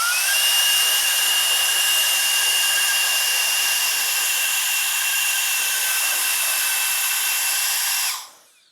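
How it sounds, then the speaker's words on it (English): A loud, steady hiss of an air blower forcing air into the pressure valve of a PC liquid cooling loop, with a faint whine running through it, holding for about eight seconds before cutting off abruptly. "So I'm going to take the air blower. What we're going to do is actually blow this into that pressure valve."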